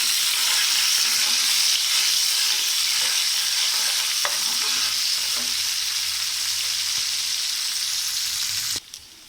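Bitter gourd stir-fried in a pan with dried prawns and onions gives a steady, loud sizzle with soft stirring scrapes throughout, alone without talk, ending in a brief clatter.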